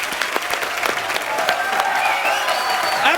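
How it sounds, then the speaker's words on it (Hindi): Sustained studio audience applause on a Hindi comedy talk show, thick continuous clapping with some sharp individual claps standing out, while a voice carries along over the top. "तालियां बजती रहनी चाहिए।"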